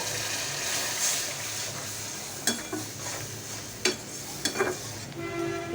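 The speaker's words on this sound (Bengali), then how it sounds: "এই যে ডালটা মাশকালের ডাল বাগার দিচ্ছি আমি।" Black gram dal is tempered with onion in a hot pan and sizzles steadily and softly, with a few sharp clicks of a spoon stirring against the pot.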